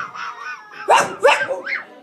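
A dog gives a few harsh, menacing barks and growly yelps in quick succession, close by, with a softer whine trailing off at the end.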